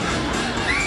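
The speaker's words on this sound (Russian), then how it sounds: "Вот такие крики." Riders scream on an amusement park ride at a night attractions park on Yuzhny Prospekt in Vityazevo, a steady blended wash of crowd screaming and shouting carrying from a distance over the whole second.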